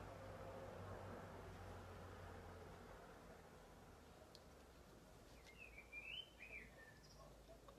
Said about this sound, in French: Oh, j'entends les oiseaux.